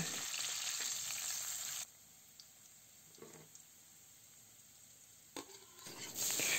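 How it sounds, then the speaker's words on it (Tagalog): Onion and garlic sauté in a pan for a dried anchovy dish. Loud, close oil sizzle runs for almost two seconds, then drops to a quiet lull with faint clicks, and the sizzle swells again near the end. "Gisayin lang natin yan hanggang sa maamoy natin ang bango ng sibuyas at bawang."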